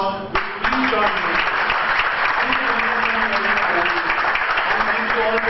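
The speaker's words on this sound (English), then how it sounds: "We can only thank him by just giving him an extremely loud applause" Loud, sustained applause from a large audience fills the space, with some tonal sounds or voices faintly underneath.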